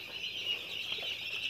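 Chickens in a poultry shed clucking softly, faint and distant over a steady high-pitched background hum, with no voices.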